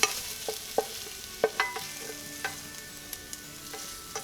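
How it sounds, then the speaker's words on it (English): Chopped onion sautés in a pan for a vegan French dip, with a steady soft sizzle and repeated sharp scrapes and clicks of stirring scattered throughout, no voices. "and the onion sauteing"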